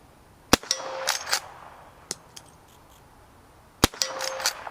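Two sharp gunshots fired with reusable brass cartridges sound about three seconds apart, each followed by metallic pings and clinks from ejected casings landing nearby.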